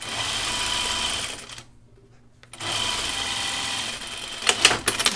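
A sewing machine runs a quarter-inch seam on a button-up shirt. A close, steady mechanical whirr stops for about a second, then resumes with a few sharper clunks near the end.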